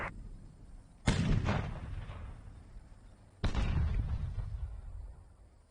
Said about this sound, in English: Alright, airstrike on 5.